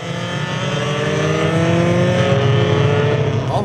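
Honda race cars, among them S2000s, CRXs, Integras, Civics and Preludes, lapping the Mid-Ohio track at the 2004 Honda Challenge National Championship, a loud continuous engine drone with rising revs as cars pass close by.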